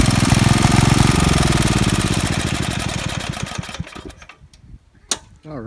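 Old junk garden tractor engine chugging loudly close by in a fast, steady rhythm that slows and sputters toward the end, with people talking over it.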